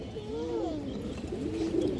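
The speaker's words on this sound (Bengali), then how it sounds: "এই যে দেখেন দর্শক কবুতর দুইটা" Pigeons coo softly nearby, their rolling, wavering calls sliding up and down in a continuous low murmur.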